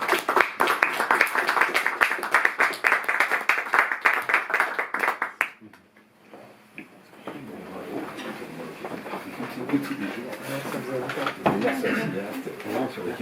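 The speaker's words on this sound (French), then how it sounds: "Merci à vous, on va vous applaudir." An audience at a Paris film talk applauds with dense, rapid clapping for about five seconds, which then breaks off and is followed by murmuring voices and room noise.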